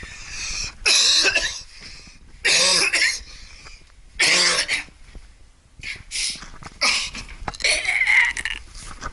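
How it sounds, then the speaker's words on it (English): A person coughs in several harsh bursts separated by short pauses, loud and close, with some throat-clearing between. "I cough it up."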